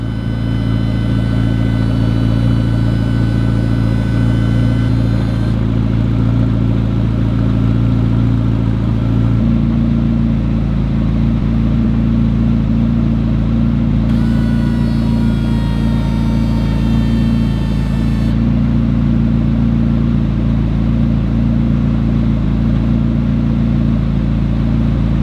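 A McLaren P1 with a 4.0L engine conversion idles loudly at close range, its steady rumble shifting level as it is switched into race mode and back out, with high whine layered on top.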